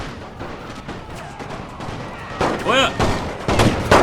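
Massed rifle and artillery fire from troops in a Great War mod of Napoleon: Total War, as continuous rumbling volleys with sharper blasts near the end, while someone speaks briefly over it.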